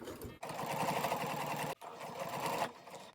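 A sewing machine stitching around a fabric drawstring bag runs in two steady mechanical bursts with a rapid rhythmic whir, separated by a brief pause, fairly quiet and close.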